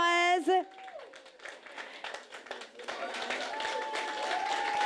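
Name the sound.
applause after cake cutting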